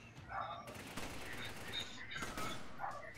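Gunfire in Resident Evil 5 co-op play, a string of quick shots and impacts mixed with game effects and background noise, fairly faint throughout with no clear pauses.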